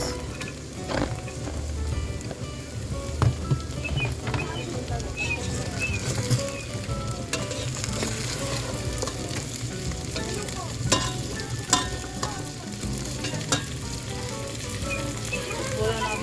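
Carrots tumble into a hot frying pan for a creamy macaroni soup and sizzle steadily, a dense continuous crackle with occasional stirring scrapes and clinks, close and unbroken throughout with no speech.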